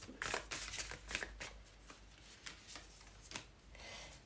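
Quiet, close riffling of a tarot deck being shuffled, several soft rapid card bursts in an uneven rhythm, faint and alone without talk.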